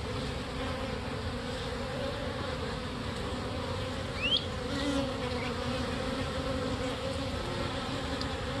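Honey bee swarm of about five thousand bees building comb, a continuous soft buzzing hum with an occasional louder bee passing close, and no talk.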